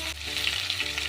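Green chilli paste frying in a pan, a dense, steady hiss of sizzling oil, close and even for just over a second, with no voices.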